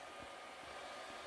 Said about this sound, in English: See if you can angle the hair dryer a little bit.